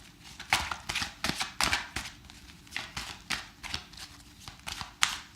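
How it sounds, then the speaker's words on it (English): Tarot cards shuffled by hand, a steady series of close, crisp riffling and slapping bursts repeating about twice a second, with no talking. "Hopefully you find this shuffling soothing."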